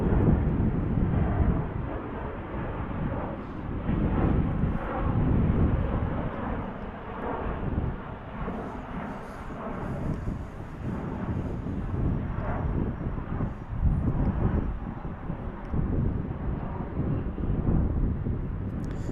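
A jet airliner at DFW Airport in Dallas, Texas, heard as a steady, loud, broadband engine roar that swells and eases over nearly twenty seconds, with some wind buffeting the microphone.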